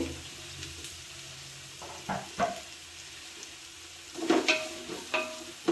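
About 300 grams of onion fry in a pan after cumin and garlic, a soft steady sizzle with occasional stirring scrapes and clatters, close by and without voices.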